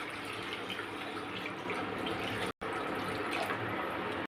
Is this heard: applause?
no